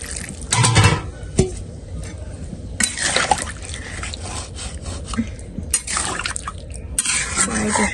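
Water poured into a cooking pan of taro and fish, heard as a few bursts of splashing and trickling liquid with scraping and rubbing sounds between them, close and moderately quiet.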